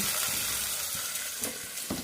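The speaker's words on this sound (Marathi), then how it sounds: "गावरान वरण देत आहे फोडणी" Tempering for village-style dal sizzles in hot oil, a steady close hiss with a few faint clicks and stirs in a farm kitchen, no one speaking.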